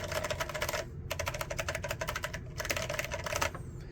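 Typing on a rare Epson Q303A keyboard fitted with Fujitsu lever-action switches, a fast steady patter of crisp keystrokes in two runs broken by short pauses, close and alone.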